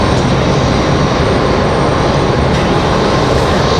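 Embraer E175 regional airliner at Raleigh-Durham airport, a loud, steady broadband jet engine roar that holds unchanged throughout with no talk.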